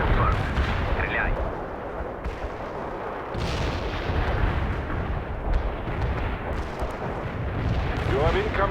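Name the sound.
artillery barrage in the video game World in Conflict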